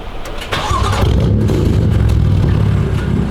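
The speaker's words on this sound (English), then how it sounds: "Can you turn on the car real quick?" A stock car engine cranks and catches after a brief moment of quiet, then settles into a loud, close, steady rumbling idle.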